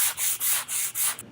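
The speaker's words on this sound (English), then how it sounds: "Now I'm going to take this sanding block and I'm going to take the edge off of this quarter round." A sanding block rubs along the edge of a wooden quarter round strip in five quick back-and-forth strokes, a close, dry, raspy scraping that stops abruptly after the last pass.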